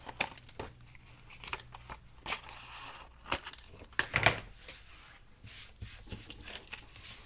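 Excess paper for a journaling card is trimmed with scissors in a series of short, sharp snips and light paper rustles, close and fairly quiet, spaced irregularly with one louder crinkle in the middle.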